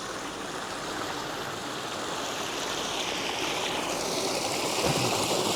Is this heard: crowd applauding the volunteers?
no